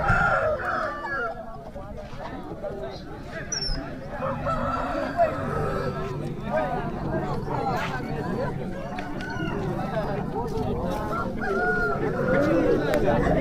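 Hens and roosters at a Friday night hen market in Kundarapalli, Krishnagiri, Tamil Nadu: crowing and clucking mixed into a dense crowd of chatter, steady and busy throughout.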